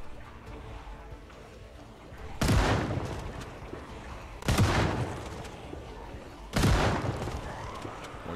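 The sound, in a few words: gunfire shooting zombies in video game Project Zomboid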